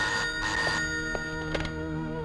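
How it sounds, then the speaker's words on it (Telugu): A telephone rings close by with bright, bell-like tones repeating in short bursts, loud and clear against a faint background. "అమృత ఫోన్ చేసింది"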